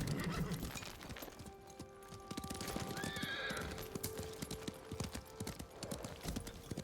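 A horse gallops in the PC game Ghost of Tsushima: a rapid, even clip-clop of hooves throughout, with a short whinny partway through and faint voices underneath.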